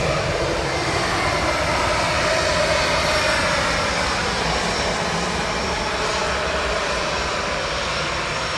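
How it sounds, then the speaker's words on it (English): An Aer Lingus airliner in from Frankfurt, a 19-year-old aircraft at Dublin Airport, gives a steady, loud, broadband engine roar that holds evenly throughout with no voices. "Next up, Aer Lingus in from Frankfurt."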